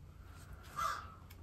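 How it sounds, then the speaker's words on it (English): A single faint crow caw sounds from a distance against quiet room tone, with no talking. "Did you hear that crow?"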